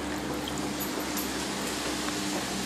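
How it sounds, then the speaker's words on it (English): Water from an aquaponics siphon drains down a pipe toward a waterfall, a constant rushing, trickling flow with a low steady hum beneath it, close and unbroken. "Traps down this pipe over to the waterfall right here. Then we got the siphoning action."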